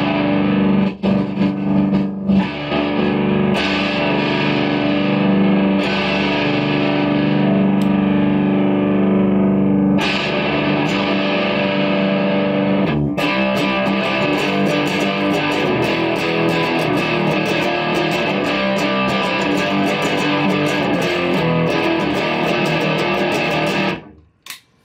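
Electric guitar played through a Vox AC30 valve amp with a 4x12 cabinet and distortion, sustained chords ringing loud and dense, with strums and pauses, then cut off abruptly near the end.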